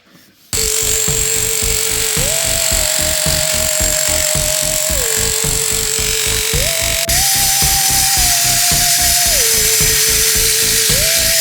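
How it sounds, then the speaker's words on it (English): Makita power tool cutting through concrete and rock in a half bath floor, running loud and continuous close by with a steady rapid pulsing and shifts in pitch as it bites in. "So we'll have to take that Makita and cut it all out."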